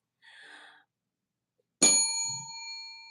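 A small bell gives one bright, ringing ding that decays slowly, marking a purchase during an anniversary sale, preceded by a soft breathy sound, with no talking.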